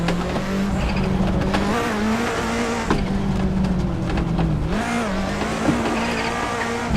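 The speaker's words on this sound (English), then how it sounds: "this car does not actually want to drift at all" Race car in the Assetto Corsa driving game, drifting with a steady droning engine note and long tire squeals and skids that rise and fall throughout, loud and continuous with no talk.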